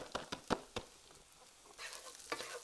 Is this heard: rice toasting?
yes